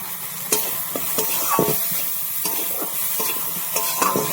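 Fish curry masala sautéed in a pan for a mustard-spiced amodi fish jhal made without onion or garlic, stirred steadily with a soft continuous sizzle and scattered sharp spatula scrapes against the pan, close and without talk.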